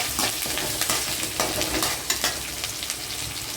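Snake gourd and dried red chilies fry in a pan with a steady hissing sizzle, broken by repeated close scraping stirs of a utensil, no voices.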